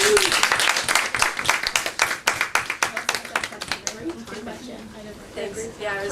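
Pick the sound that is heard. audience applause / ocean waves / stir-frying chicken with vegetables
audience applause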